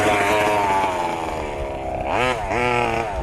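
A 2wd FG RC truck's small petrol engine runs at light throttle, a buzzy harmonic drone that holds steady, then briefly rises and falls in pitch, close and continuous.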